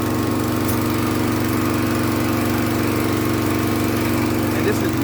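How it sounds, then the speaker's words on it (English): SkyVac gutter vacuum running steadily in blow mode, clearing heavy soil from its hose, a loud continuous motor drone with a constant whine throughout. "I need to flip it to the blow and get all this heavy soil out of the hose"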